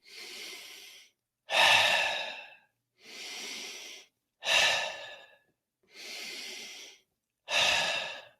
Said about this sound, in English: Stop and take 3 deep breaths.